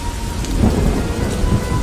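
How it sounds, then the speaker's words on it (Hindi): Heavy rain pours steadily onto surfaces, with low rolling thunder rumbling beneath the dense downpour throughout, no voices present. "बहुत जोर की बारिश होने लगी"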